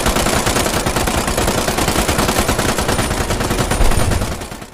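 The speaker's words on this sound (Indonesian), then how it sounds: "Kapten Thomas juga diperintahkan untuk membantu mereka memberikan tembakan perlindungan dari sisi timur" Machine guns fire in sustained rapid bursts, a loud, close, unbroken rattle of shots through a World War II battle scene on the Soviet front, easing off only at the very end.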